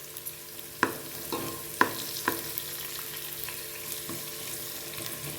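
Cumin seeds sauté in a pan while being stirred, making a soft continuous sizzle with a few distinct clicks and scrapes of the spoon, fairly quiet, with no voices.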